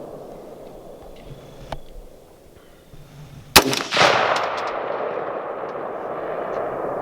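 A single loud, close rifle shot at an outdoor range, fired from a rifle topped with a Vortex Crossfire II 4-12x50 scope: a sharp crack followed by a long rolling echo, after faint background noise.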